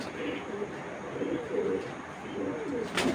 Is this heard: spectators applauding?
no